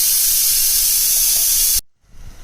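Pressure cooker cooking beef nehari releasing a loud, continuous close hiss of steam that cuts off abruptly, followed by quieter background noise.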